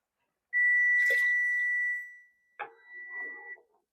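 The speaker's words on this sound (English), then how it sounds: "That's the timer for the sweet potato casserole." A kitchen timer set for a sweet potato casserole during Thanksgiving cooking gives one long, steady electronic beep, then a shorter second tone after a brief gap, clear and fairly close, with no talking.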